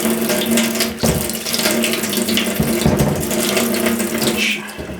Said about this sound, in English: to run the radio cabinet underwater